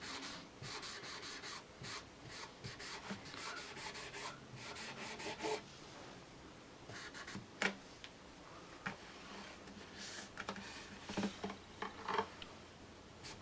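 Lemon oil is rubbed by hand into the wooden fretboard of a guitar while the strings are off, a quiet, close, continuous rubbing with soft ticking and dry scraping accents.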